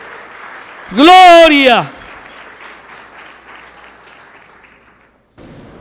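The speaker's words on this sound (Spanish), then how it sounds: "Dale un fuerte aplauso" A church congregation applauds during a sermon. A loud shouted voice opens, then moderate, even clapping continues underneath before cutting off abruptly near the end.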